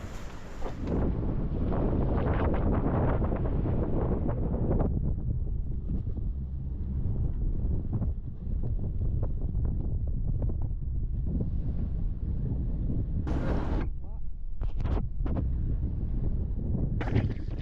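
Strong headwind of about 20 knots blowing across a sailboat off Scotland, a loud, constant rushing roar buffeting the microphone, with sharp gusty bursts near the end.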